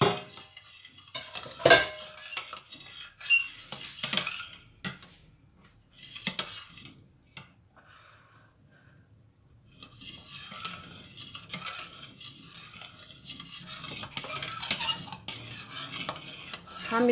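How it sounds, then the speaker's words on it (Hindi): A spoon stirs a pistachio dessert mixture in a pan over the stove, making irregular scraping clinks and metallic taps against the pan in bursts with a quiet pause midway, close and without speech. "चम्मच को मुसलसल हिलाना चाहिए"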